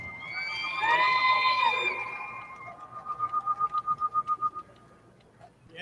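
Crowd at the 2016 Festival of Pacific Arts opening ceremony on the Paseo Peninsula, a swell of cheering and whistling voices that fades into a rapid run of rhythmic whistle-like chirps, then quiets.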